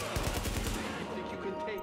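Rapid automatic fire from a JTF turret in the video game The Division, a short burst of loud repeated shots at the start followed by dense game noise with a voice underneath.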